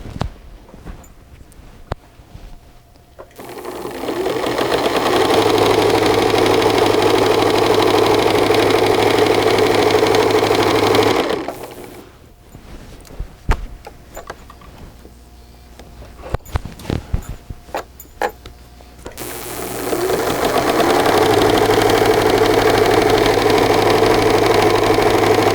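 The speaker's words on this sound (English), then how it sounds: "So we're going to sew that right on down too." Sewing machine stitching fabric with a pocket, two long steady bursts of motorized whirring separated by a quiet gap of small clicks and handling noises, close and fairly loud, no talk.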